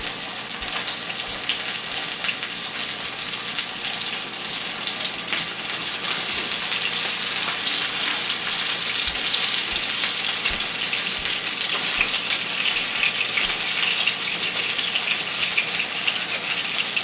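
A goat-cheese-and-spinach-stuffed chicken breast fries in a pan with a steady, dense hiss and crackle of hot oil, continuous and close throughout.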